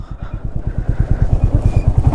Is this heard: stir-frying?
no